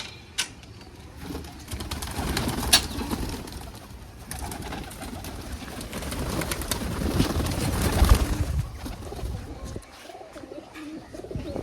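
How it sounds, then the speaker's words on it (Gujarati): Pigeons cooing softly amid a steady background hum, with occasional rustling and light flutters; the birds sound fairly close, with no talking. "જો કબૂતર છે આપણા"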